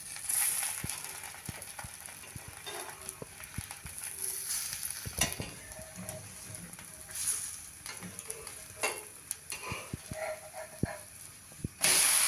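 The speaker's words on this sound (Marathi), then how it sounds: "आता खालतून आपण उलटवून घ्यायचं आहे आणि या बाजूने पण आपण थोडंसं फ्राय करून घ्यायचं" A flipped ghavan, a pancake of bhel batter, sizzles steadily in a hot pan, a close continuous hiss with occasional light scrapes and taps of a spatula.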